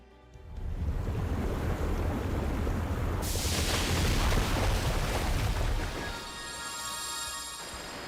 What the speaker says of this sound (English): Here comes another river.